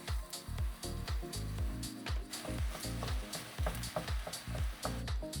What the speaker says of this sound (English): We'll saute this. Next, we're gonna add in our ground beef.